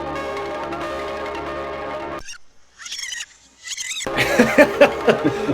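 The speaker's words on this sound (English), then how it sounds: "that rewind sound alone needs to be sampled" A loud, dense mechanical whir cuts off abruptly, followed by short chirping, squealing bursts, then a busy warbling rush of rewinding tape with rapid pulsing peaks.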